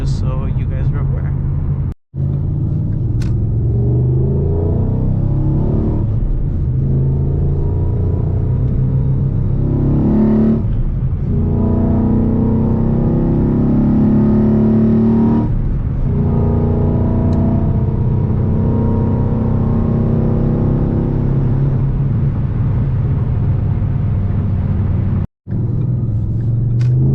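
A 2011 Ford Mustang GT V8 exhaust roars loudly through hard acceleration pulls, a continuous deep rumble rising and falling with revs, heard from inside the car over a long stretch with brief cutoffs.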